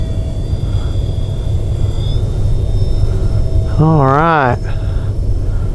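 A radio-controlled OV-10 Bronco scale model airplane cruises by with a steady droning engine rumble, a rising and falling whine briefly swelling near the end, while someone speaks a few words over it.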